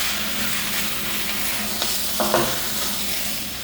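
Sliced green capsicum, cut lengthwise, fries in a hot pan with a steady close sizzle, broken by a few faint scrapes of a spatula stirring the strips.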